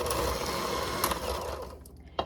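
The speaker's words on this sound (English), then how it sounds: "And now just mix until combined, do not overmix." Electric mixer whirring through cake batter of butter, flour and milk, a steady motor hum that fades near the end, close and alone.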